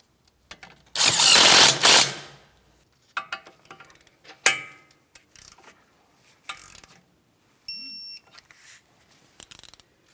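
A ratchet snugs a castle nut onto a tie rod end stud on a 2007-2014 Ford Edge: one dense burst of clicking, then scattered shorter clicks and clanks with quiet gaps.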